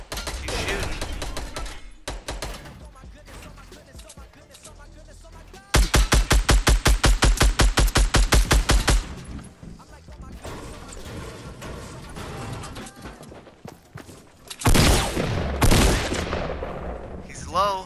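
Fortnite gunfire comes in bursts: rapid automatic volleys, a sustained stretch of evenly spaced loud shots, and heavy blasts near the end, with a player's voice talking between them.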